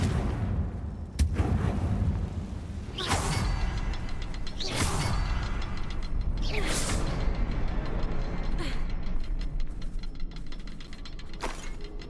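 A Confringo explosion spell fires in Hogwarts Legacy, bursting as several sharp booming blasts with hissing tails at roughly one-to-two-second intervals over a steady game soundscape, loud and close.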